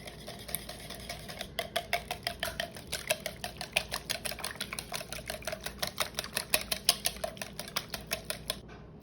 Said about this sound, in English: I'm gonna whisk these together and crack my eggs